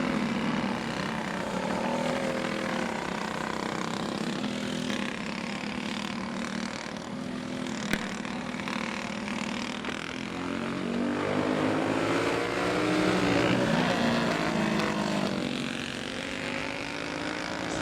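Racing karts on a night heat race at a kart club track, a steady droning chorus of small engines passing at mid distance, swelling and fading as they lap.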